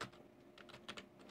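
Quiet clicks of someone typing on a computer keyboard, a short irregular burst of keystrokes close by with no talking.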